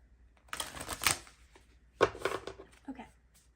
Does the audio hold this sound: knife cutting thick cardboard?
no